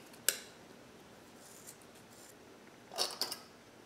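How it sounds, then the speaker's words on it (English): Scissors snip soaked rawhide strips for a rattle, a single sharp cut followed later by a short cluster of snips, close and quiet against a hushed room, with no talking. "what I'm going to do next is trim these"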